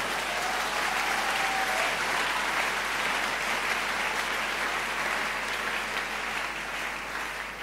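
Church congregation applauding the Lord during a worship service, sustained dense clapping from a large crowd filling the room, steady then slightly tapering.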